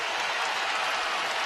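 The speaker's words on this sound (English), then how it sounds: "and here comes the crowd." A college basketball crowd at an Oral Roberts vs. Creighton game roars with sustained, loud cheering and applause, a dense, even wall of noise with no distinct voices standing out.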